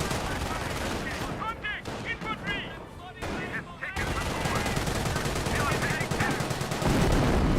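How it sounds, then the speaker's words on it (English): Incendiary mortar fire and surrounding battle noise in the World War II strategy game Company of Heroes: loud, dense, continuous bursts of shots and explosions heard alone, with no talk. "A pretty good incendiary mortar there."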